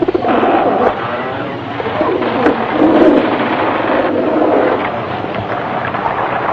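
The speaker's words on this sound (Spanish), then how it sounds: "En 2 ocasiones, Noé envió a una paloma fuera del arca esperando que encontrara tierra firme y vegetación." A dove cooing, with soft, repeated low calls over a steady background wash, fairly loud and close, with no talking.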